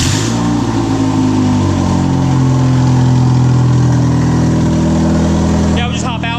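A turbocharged Miata-engined kart sits idling with a steady, loud mechanical drone close by, while people talk over it.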